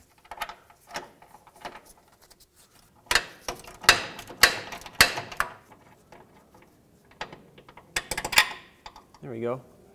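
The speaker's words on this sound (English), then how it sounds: "with a 17 millimeter, I'm going to remove this bolt here that holds the steering rack in place" A ratchet with a 17 mm socket works loose the steering rack bolt on a 2006-2011 Honda Civic. It gives faint clicking at first, then bursts of loud, sharp pawl clicks, with a short voice sound at the end.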